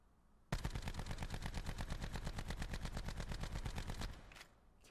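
An automatic Rampart 17 rifle in Call of Duty: Black Ops 4 fires one sustained, rapid burst of evenly spaced shots lasting about three and a half seconds, loud and close, then it stops.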